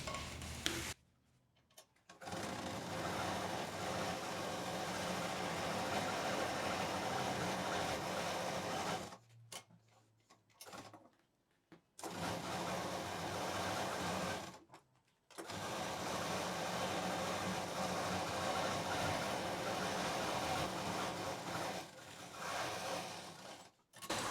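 A sewing machine runs stitches through a homemade fabric doormat with a lining layer, steady mechanical whirring in several long bursts broken by short pauses, close and fairly quiet, with no speech.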